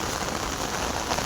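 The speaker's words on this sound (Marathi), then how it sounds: "पाऊस पण पुष्कळ पडतोय" Heavy monsoon rain pours steadily in Thane, a dense, even hiss of drops on surfaces, loud and close throughout with no talk.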